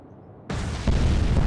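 Torpedo strikes a ship in the naval strategy game Atlantic Fleet, a sudden loud explosive boom bursting in after near silence and swelling into a heavier rumbling blast.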